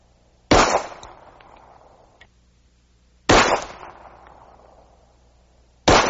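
Three loud, close pistol shots firing 185 grain Winchester Silvertip rounds, each a sharp crack with a short decaying echo, spaced a few seconds apart.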